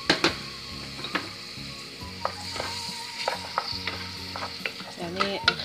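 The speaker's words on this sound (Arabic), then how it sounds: "راح نجيب البصل والثوم نشوحهم في الزيت." Onion and garlic sautéing in hot coconut oil in a pan for a pumpkin gratin, giving a gentle sizzle broken by frequent clinks and scrapes of a utensil stirring, close by with no voices.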